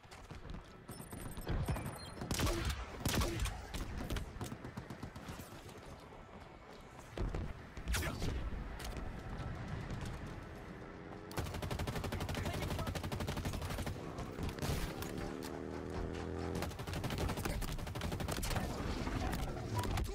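Gunfire rings out during a Halo Infinite PvP multiplayer match: shots and bursts crack repeatedly over a dense, continuous mix of game sounds and music that runs the whole time without pause.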